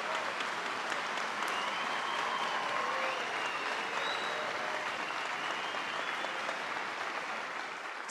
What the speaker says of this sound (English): please welcome with a great hand of applause up there and down here, our incoming board chair